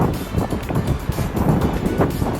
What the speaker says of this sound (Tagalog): mahangin at saka maambon